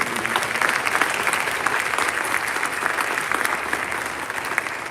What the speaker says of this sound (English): give a round of applause to those section coaches for their work